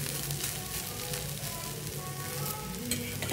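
Food frying in a small amount of oil, a steady close sizzle with faint crackles and occasional stirring, running continuously without speech.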